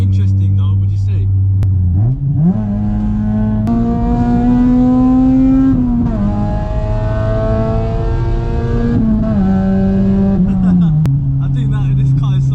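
Straight-piped Honda Civic Type R engine revving loudly from inside the car, a droning exhaust note that climbs, holds and steps through gear changes, with voices talking over it throughout.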